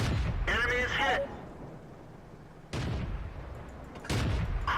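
An SU-76I tank destroyer in World of Tanks fires heavy, booming shots at spaced intervals, each a sharp blast trailing into rumble, mixed with brief radio-style crew voice lines.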